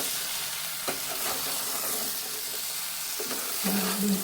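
Okra fries in oil with a continuous sizzle while a spoon stirs it, adding occasional scraping clicks against the pan and a short low hum toward the end.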